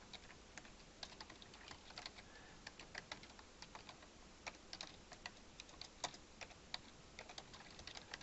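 Rapid, irregular clicks of typing on a computer keyboard, close and fairly quiet, with keystrokes coming in uneven bursts and no voices.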